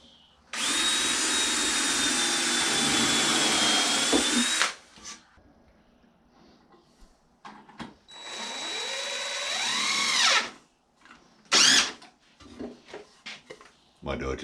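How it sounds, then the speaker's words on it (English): A power drill whirs in two long bursts and one short one, pre-drilling wood, close and loud, with quiet handling noises and brief gaps between. "I'm just going to pre-drill and kind of toe screw it in."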